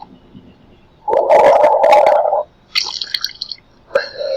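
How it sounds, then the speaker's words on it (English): Water poured for rinsing the mouth, a gurgling, splashing burst lasting over a second, followed by shorter bright watery trickles and splashes, close and loud with no voices. "I'm just going to give you some water to rinse your mouth."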